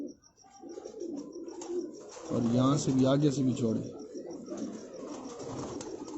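Pigeons cooing at a rooftop loft among prized birds, low rolling coos rising clearly in the middle while someone talks over them near the start and end.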